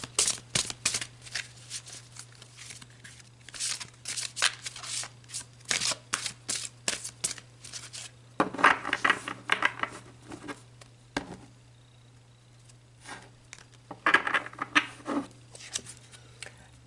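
Tarot cards are shuffled close up in quick, crisp riffles and soft patters that come in irregular bursts, with short pauses between handfuls.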